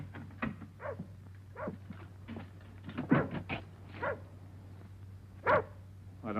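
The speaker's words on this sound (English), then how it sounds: "I tied him up, but he wouldn't bark unless there was something wrong." A tied-up dog barks outside, a series of sharp, irregular barks and yips at moderate distance over a steady low hum.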